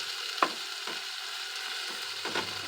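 Browning sausage and wilted vegetables sizzle quietly in a pan while being stirred, a low continuous crackle broken by a few soft scraping strokes of the spoon, with no voices.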